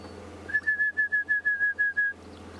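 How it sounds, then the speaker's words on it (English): An orange-breasted bush shrike gives a clear, steady series of about nine evenly spaced whistled notes on one pitch, fairly close and alone, heard outdoors on a sunset safari drive in Tingana. "which is an orange-breasted bush shrike"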